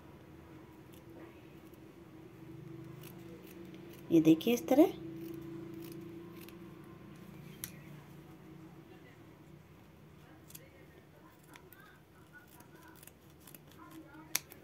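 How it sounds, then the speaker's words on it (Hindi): Scissors cut through an old sock in a short burst of crisp snips near the middle, close and clear, while a woman explains quietly over a low room hum. "ये देखिए इस तरह कैंची से काट लेंगे इसको"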